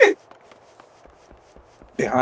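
Character footsteps in the video game Final Fantasy XIV, a soft, evenly paced run of light thuds while climbing a tower, between bursts of a player's speech.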